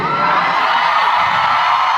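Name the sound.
concert crowd cheering on the final day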